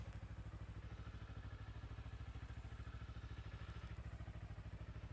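A Kawasaki Ninja motorcycle engine running close by on a rural road, a steady rapid low thrumming pulse at even rhythm throughout, with no rev or pull-away clearly standing out.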